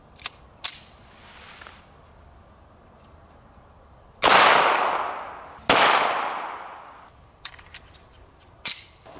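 Shots from a Smith & Wesson Victory .22 LR pistol loaded with 40 grain lead round-nose rounds, fired into a stack of money outdoors. Two loud cracks each trail off in a long echo, with smaller pops and clicks around them.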